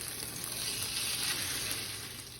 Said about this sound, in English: It's time to flip our French toast.